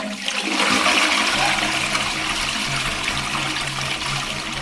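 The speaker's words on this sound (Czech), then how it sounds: "když spláchnu." Toilet flushing close by, a loud rush of water that surges at once and then keeps gurgling and draining steadily for several seconds, with no talking.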